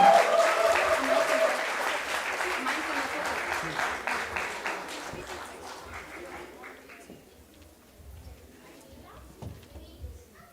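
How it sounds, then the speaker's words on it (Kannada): Loud audience applause fills the hall to welcome a children's Ekashloka Ramayana team onto the stage, steady at first and gradually thinning out toward the end, with scattered claps and faint murmurs. "ಜೋರಾದ ಚಪ್ಪಾಳೆಯೊಂದಿಗೆ ಏಕಶ್ಲೋಕ ರಾಮಾಯಣ ತಂಡವನ್ನು ವೇದಿಕೆಯ ಮೇಲೆ ಸ್ವಾಗತಿಸೋಣ"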